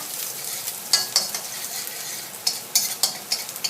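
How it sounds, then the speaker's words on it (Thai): Chopped red shallots fry in oil for pad thai with a steady close sizzle, broken by a series of scraping stirs of the spatula against the pan. "มันลงไปใส่หอมสับนะคะหอมแดงนะคะหอมแดงสับลงไปผัดให้หอมก่อนนะคะ ถ้ามีหน่อยมีน้ำมันมันก็จะดังซีดๆซากๆนะคะ"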